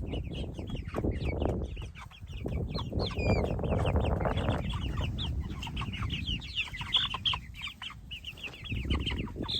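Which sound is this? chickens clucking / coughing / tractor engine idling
chickens clucking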